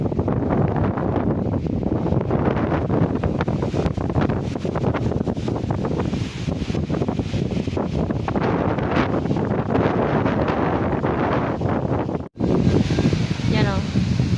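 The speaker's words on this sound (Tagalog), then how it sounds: "Sobrang lakas ng hangin," Very strong wind buffets a small boat at sea, roaring loudly and steadily into the microphone with a constant gusty rumble that drowns out nearly everything else.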